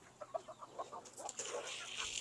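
Farm chickens eating Enertone feed, giving soft, close clucks and short murmuring calls in a quick irregular series, fairly quiet and with no talking.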